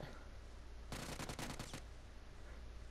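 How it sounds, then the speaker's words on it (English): Gunfire in PLAYERUNKNOWN'S BATTLEGROUNDS: a loud, rapid automatic burst lasting just under a second, standing out over a steady low game background. "Oh, I'm getting shot."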